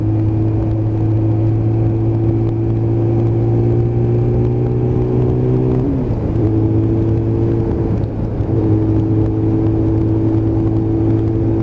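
A motorcycle rides on twisty country roads on the way to Ivinghoe Beacon and Dunstable Downs. The engine holds a loud, constant drone with wind rumble, and its pitch dips briefly twice as the rider shifts or eases off through bends.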